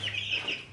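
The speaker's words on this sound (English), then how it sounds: "We're in here cleaning out the chicken brooder." Young chickens in a brooder give soft, high clucks and peeps in a brief, close burst over a low steady hum.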